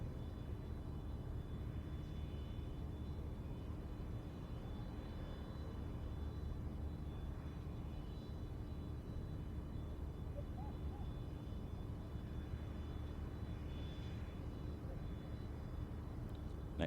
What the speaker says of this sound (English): Next aircraft taxiing out. This is the Dart 450, moving out onto the threshold of the runway from Diamond Aircraft.